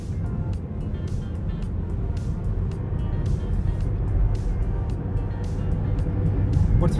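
A 2021 Mazda CX-8 SUV driving through the city, with a steady low road and engine rumble throughout and faint clicks on top, no talking.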